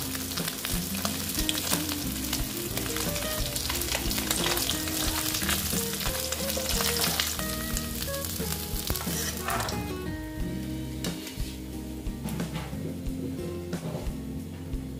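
Bata fish fry in hot oil, sizzling loudly and steadily with no talk, crackling bursts thick through the first half before the frying noise eases slightly toward the end.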